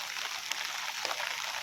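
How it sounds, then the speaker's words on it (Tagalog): Heavy rain pouring outdoors during a United Nations Day family celebration, a dense, steady hiss of falling water close by with no voices. "grabe na ang ulan."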